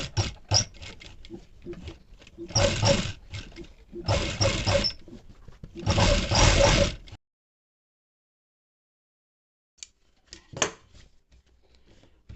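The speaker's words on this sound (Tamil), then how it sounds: "இப்போ நான் வந்து தையல் போட்டு காட்டுறேன்." A sewing machine stitches a V-neck collar on a churidar in bursts of rapid clattering, several runs of a few seconds each, close up, then silence and a couple of brief handling clicks.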